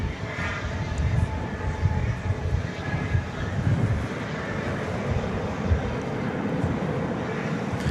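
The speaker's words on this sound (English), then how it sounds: "As you see American Airlines baby bus coming in from Pensacola, Florida, flight 2062." An American Airlines regional jet arriving from Pensacola at Dallas/Fort Worth Airport at night produces a steady, low, distant engine rumble. The roar holds constant with wind buffeting and no voices.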